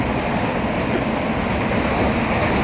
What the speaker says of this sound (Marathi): आमची ट्रेन